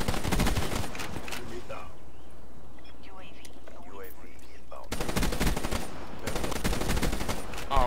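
An HVK rifle fires in Black Ops 3 on the Nuketown map in Domination mode. Rapid automatic bursts open the moment, give way to a quieter stretch with talking, then resume in a long, loud, close stream of shots.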